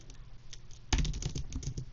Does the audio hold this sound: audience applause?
no